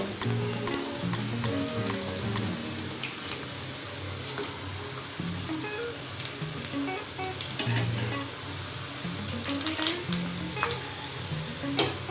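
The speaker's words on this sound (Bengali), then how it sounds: "এইভাবেই আর এক পিঠ আমরা ভেজে নেব।" Taler bora, palm fritters, frying in oil, a steady bubbling sizzle with occasional clicks and light stirring knocks, close and continuous with no voices.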